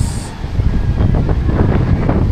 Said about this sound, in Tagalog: Hangin na hinihila ng bagyo. Hindi na gano'ng malakas.